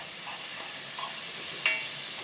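Garlic sizzling in a spoonful of grapeseed oil in a pan, a soft steady hiss with faint crackles and one brief sharper pop, close and alone without talk.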